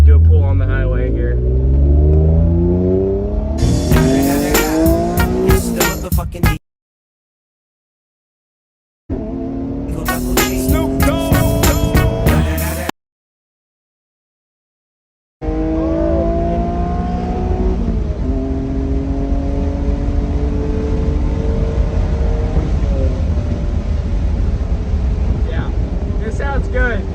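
A Honda NSX fitted with a test pipe exhaust accelerates hard on a highway, its engine revving up loud and close through repeated rising pulls with brief silent gaps between them.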